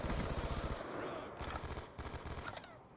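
Rapid automatic gunfire in a shooter game with a Type 25 rifle, fast bursts of cracking shots in a dense rhythm, fairly quiet, with scattered background noise.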